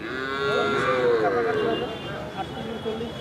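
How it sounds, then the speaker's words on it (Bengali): Sahiwal breed calves at a rural cattle and goat market give a loud, drawn-out moo close by, with crowd voices and market chatter murmuring underneath. "এইখানে যে সুন্দর সুন্দর শাহিওল জাতের বাছুর দেখতে পাচ্ছেন"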